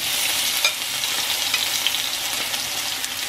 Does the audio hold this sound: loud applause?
no